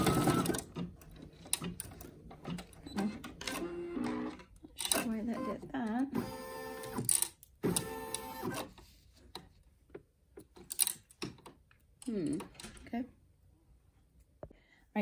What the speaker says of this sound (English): It's going to give me a placement stitch for number 15.